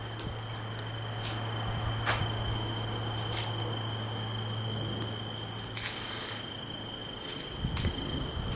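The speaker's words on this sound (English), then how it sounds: "And a very loud cricket somewhere." A cricket chirps in a steady high-pitched trill in the Colorado Rocky Mountains after a storm, close and fairly loud, with a low hum and occasional soft rustles and taps around it.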